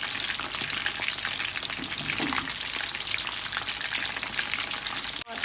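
Battered shrimp deep-frying in hot oil, a steady dense crackling sizzle throughout, close and even, with a brief clatter near the end.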